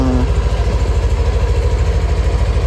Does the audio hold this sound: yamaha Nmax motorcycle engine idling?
yes